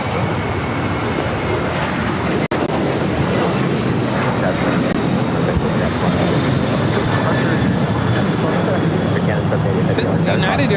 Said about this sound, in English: This is United Airlines 2361 taking off to Bozeman on the 737-800.